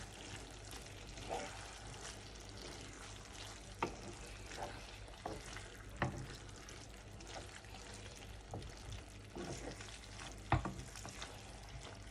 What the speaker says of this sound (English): Just going to mix that flour in there.